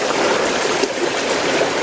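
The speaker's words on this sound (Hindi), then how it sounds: "आवाज़ महसूस करिए इन गधेरों की" A small mountain stream beside a village in Uttarakhand rushes and gurgles steadily, loud and close, with no voices over it.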